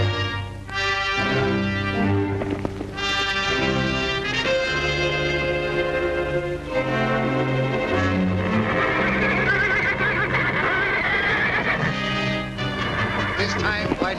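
A black horse neighing and whinnying in an old 1938 western film, loud repeated neighs over a full orchestral score.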